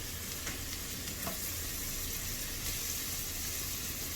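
Garlic fries in a pan with already-cooked onions, producing a steady, dense sizzle that holds evenly throughout with no talking.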